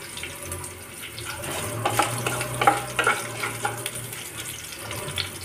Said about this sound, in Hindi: अब इसमें कढ़ी पत्ता डालते हैं।